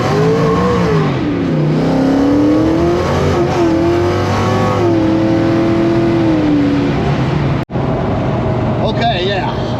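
A 600 hp, 2500 lb Ford Fox Body with a 10-speed automatic accelerating hard, engine loud and close as its pitch sweeps up through several gear changes, then a brief cut and a faint tail; voices are heard over it.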